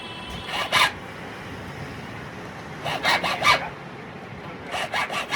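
A metal key blank is filed by hand while a key is being cut, heard as three short bursts of several rasping strokes each, separated by pauses over a steady low background hum.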